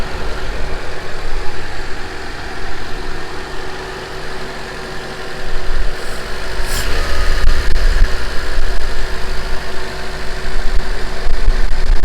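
A Honda CRX engine idling after a throttle body swap, a steady low rumble running continuously up close, dipping slightly for a moment before returning a little louder, with a brief clatter partway through.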